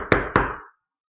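Two sharp knocks on a door, close and loud, spaced about a quarter second apart, then silence.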